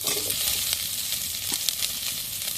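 Potatoes hitting hot oil in a pan for a Bengali bitter gourd curry, a steady close broadband sizzle and crackle with light stirring scrapes, no voices.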